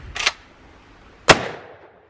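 Two sharp gunshots ring out at a zombie target on a shooting range, about a second apart, each a loud crack with a short decaying tail; no talking.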